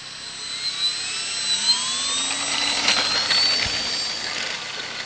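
A P-51 propeller airplane taking off, a steady loud engine drone with rising whine tones that stays fairly distant and continuous, with no talk.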